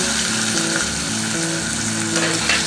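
Finely chopped onion and two green chillies frying in hot oil in a pan for a salted dried fish curry, a loud steady sizzle with faint stirring scrapes, no talk.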